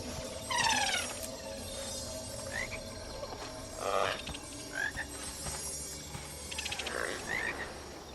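A frog in the Guild Wars 2 video game croaks in several short, repeated bursts over a steady game ambience, fairly close and clear, with no talking.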